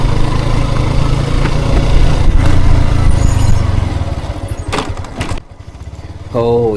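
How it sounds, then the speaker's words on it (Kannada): A loud motorcycle engine with broken exhaust clamps runs with a heavy, steady rumble, thinning out toward the end as a few sharper bursts and a brief rising whine cut through. "ಈ ಗಾಡಿ ಅಂತೂ ಹೆವಿ ಸೌಂಡ್ ಇದೆ ಗುರು."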